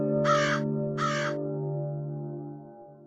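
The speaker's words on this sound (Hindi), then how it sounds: "तब एक कौवा आया और घास पर गिरा बिस्किट खाकर" A crow caws twice in quick succession, loud and close, over a steady low hum in a park setting, then the hum carries on alone.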